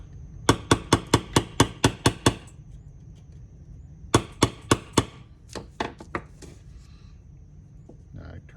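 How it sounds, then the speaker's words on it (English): A small miniature hammer strikes a punch to drive a nail in. A fast run of about eight sharp, close taps is followed by a pause, then a second run of taps that trails off into lighter, spaced hits. "my little miniature hammer"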